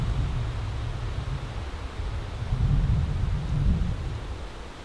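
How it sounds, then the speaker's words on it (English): Rain begins to fall outdoors, a steady broadband hiss with low rumbling swells like wind or distant thunder, continuous and fairly loud, with no talking. "It has begun raining."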